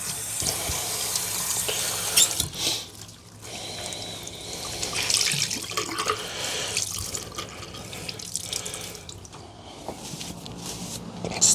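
Tap water runs into a sink during handwashing, a continuous splashing flow with irregular clatters and rubbing sounds close by.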